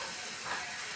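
Thick spice paste mixed in hot water goes into hot oil for a Kerala-style fish curry, giving a soft sizzling hiss that ends in a sudden sharp spatter.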